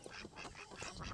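Ducks quack near a duck pen door on a farm, a quick run of nasal, honking calls up close, with no talking.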